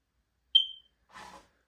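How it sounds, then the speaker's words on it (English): A smoke or fire alarm with dead batteries chirping once in an abandoned old stone farmhouse, a single short high beep followed by a faint brief rustle, otherwise silent. "The beeping you hear is the fire alarm because the batteries are dead."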